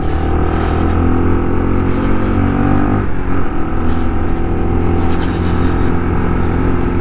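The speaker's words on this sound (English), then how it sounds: "it's a nice little burbly exhaust note coming from the engine there, and the exhaust" Lexmoto RSS Street 125cc motorcycle with a burbly exhaust note while riding, a steady loud engine drone with wind noise throughout and a brief dip in pitch midway, no talking.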